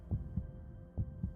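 Heartbeat sound effect for a Korean broadcast: two pairs of soft, low, muffled lub-dub thumps over a quiet steady hum, with no voices.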